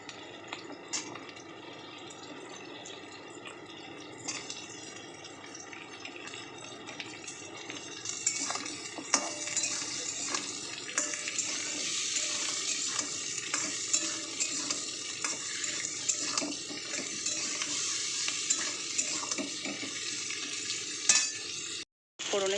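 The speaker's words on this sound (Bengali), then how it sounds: "ফোড়নের সঙ্গে একটু হালকা করে ভেজে নিয়েছি" Potatoes fry with a spice tempering for a potato and okra curry, giving a close, persistent sizzle with scattered spatula scrapes and clinks against the pan that intensify midway, then cut out briefly just before the end.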